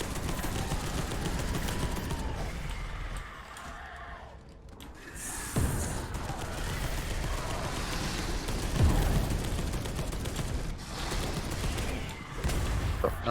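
Assault rifle gunfire in the video game Space Hulk: Deathwing, dense sustained bursts and booms roaring almost nonstop, briefly thinning midway before resuming loud and close.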